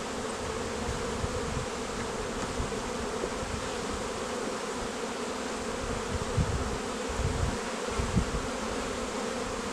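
Honeybees from an overwintered colony drone in a steady, dense buzz throughout, close and continuous, with soft low rumbles of hive handling underneath during a spring inspection.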